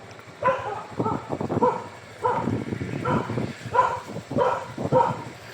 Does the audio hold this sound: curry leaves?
no